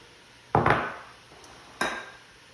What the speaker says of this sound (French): Je vais ajouter mon oignon haché